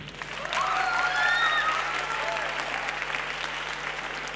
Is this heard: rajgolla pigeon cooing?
no